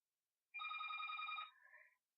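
A cell phone rings once, a loud tonal electronic ringtone lasting about a second, followed by a softer, shorter melodic tail before falling silent.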